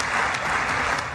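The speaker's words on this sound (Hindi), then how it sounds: "मोदी जी के भाषण पर इतनी तालियां बजी" Members of the Israeli parliament applaud after Modi's speech, a brief, continuous burst of dense clapping heard from a distance.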